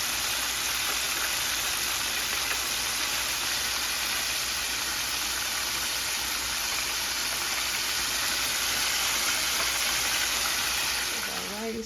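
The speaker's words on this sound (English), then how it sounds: "This is our chicken that is frying." Chicken deep frying in hot oil makes a dense, steady, loud sizzling hiss that continues without a break for about twelve seconds.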